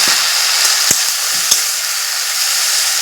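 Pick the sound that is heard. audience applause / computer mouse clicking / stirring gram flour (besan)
stirring gram flour (besan)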